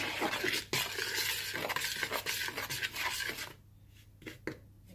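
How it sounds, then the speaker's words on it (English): A utensil stirs and scrapes through dry cinnamon, baking powder and baking soda in a bowl, brisk rubbing and tapping for a few seconds, then quieter scattered taps as the mixing slows. "Now mix this together thoroughly and just break up any clumps or lumps that you find in it."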